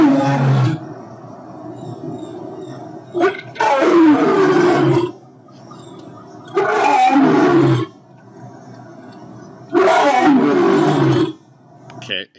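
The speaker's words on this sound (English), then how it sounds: "let's find a good lion's roar" Four deep lion roars from a sound effect sample come in long, loud, rumbling bursts, each separated by a few seconds of quiet.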